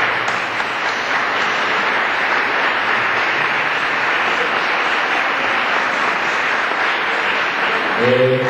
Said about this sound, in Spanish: Yo quiero un fuerte aplauso para José Manuel Durán